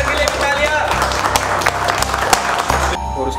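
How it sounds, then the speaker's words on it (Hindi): A room of trainees at an electronics repair class claps in a dense, steady burst of applause for their teachers and managing director, under a loud voice. "तालियां, एमडी सर के लिए भी"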